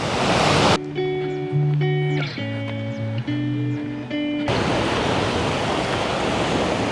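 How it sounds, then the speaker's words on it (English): Sea waves breaking against rocks on a Maltese seashore near a natural pool, a loud broadband wash that fills the opening and final seconds, with a musical interlude over the middle stretch. "the waves hitting the rocks, the seashore here"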